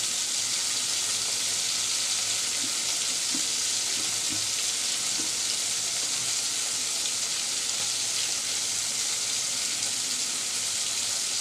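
Prawns fry in hot oil with turmeric, giving a loud, continuous close sizzle with a few soft clinks of stirring.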